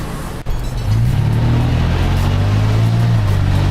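A Toyota FJ Cruiser engine revs up into a strong, steady acceleration after a brief dip, loud and sustained, with rising engine tone and heavy road rumble from inside the cabin.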